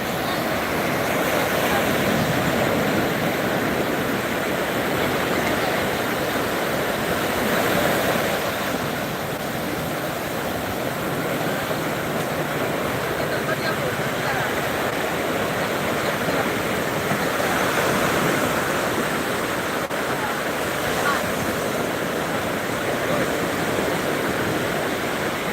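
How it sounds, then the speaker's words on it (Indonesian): Sea waves wash onto a beach as the tide rises. A continuous broad roar of surf mixes with wind noise and swells faintly in places. No one speaks. "Nah, kan airnya sudah mulai pasang ini."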